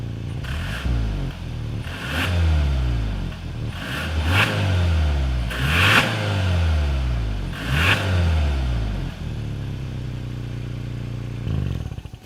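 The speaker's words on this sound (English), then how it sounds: "As always, here is that exhaust clip." Exhaust note of a 2022 Hyundai Santa Fe SUV, heard as a series of loud, close revs that climb and fall roughly every two seconds before settling to a steady idle.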